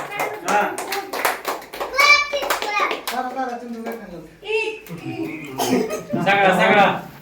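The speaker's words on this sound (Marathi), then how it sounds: "टाळ्या" A small group claps after singing Happy Birthday to an elder brother, the short bursts of applause mixed with lively voices, someone talking and coughing close by.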